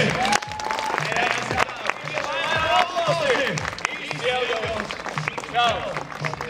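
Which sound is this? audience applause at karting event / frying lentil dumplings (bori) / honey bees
audience applause at karting event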